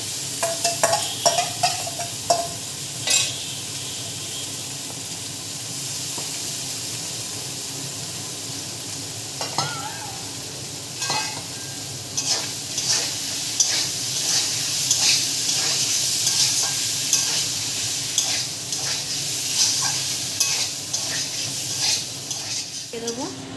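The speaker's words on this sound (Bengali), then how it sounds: "এবার যে ম্যারিনেট করে রেখে দিয়েছিলাম এঁচোড়টা, সেটা এখন কড়াইয়ের মধ্যে দিয়ে দেবো।" Marinated jackfruit sizzles and crackles in a hot wok with fried spices, repeatedly stirred with a utensil scraping the metal; close, continuous frying noise with frequent knocks and scrapes.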